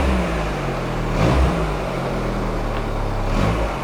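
A car engine running steadily as the car is driven into a garage, a close, constant mid-low hum with slight revving swells and no talk over it.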